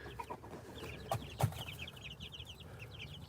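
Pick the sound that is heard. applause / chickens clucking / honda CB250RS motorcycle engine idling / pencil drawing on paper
chickens clucking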